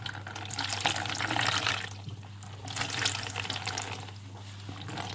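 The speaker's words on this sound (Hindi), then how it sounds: "इस तरह से अच्छी तरह से इसे वॉश कर लें ताकि सिरके की स्मेल ना रहे" Tap water running into a sink as paneer is rinsed to wash off a vinegar smell, a steady close splashing stream that swells and eases as the curds are moved under it, with no speech.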